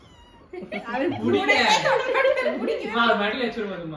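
A house cat meows in a home, its cries mixed in with people talking and chuckling close by.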